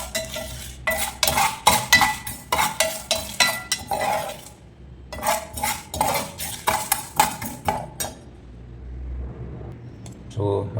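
Stirring onions or spices at low flame in a pan for fish curry, with repeated scraping and clinking strokes of a spoon against metal that come in close bursts and pause midway.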